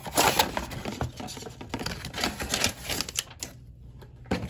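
Transformers Legacy Velocitron Blurr toy box being opened, with a busy run of close crinkling, tapping and clicking of cardboard and plastic packaging that briefly eases off before a final snap.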